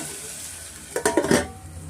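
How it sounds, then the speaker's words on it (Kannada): Onions frying in a pan for soya pulao, a soft background sizzle with a short burst of stirring scrapes and clinks near the middle. "ಚೆನ್ನಾಗಿ ಸ್ವಲ್ಪ ಆನಿಯನ್ನು ಫ್ರೈ ಆಗಬೇಕಾಗತ್ತೆ"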